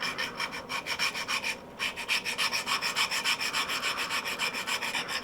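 A mechanical broadhead blade is rubbed back and forth on a sharpener, giving a fast, steady rasping rhythm of short strokes with a brief pause near the start. The strokes are close and continuous and no one talks.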